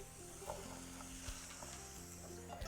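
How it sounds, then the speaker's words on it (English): Diced zucchini and rinsed garbanzo beans cook in a pan with a soft, steady sizzle and occasional stirring scrapes, quiet and close, with no talking. "We're going to continue to cook this until the zucchini is soft. Takes about 5 minutes, stir frequently."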